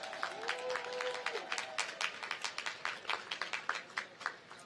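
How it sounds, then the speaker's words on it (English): Scattered clapping from a group at a commencement ceremony, a few dozen sharp claps spread over several seconds, fairly light and steady rather than a roaring ovation. "Let's give them a round of applause."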